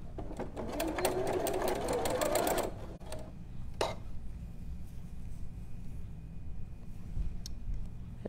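A sewing machine runs a fast, loud stitching burst through stretchy jersey fabric while sewing a tuque lining. It stops abruptly, and a few soft clicks and handling noises follow.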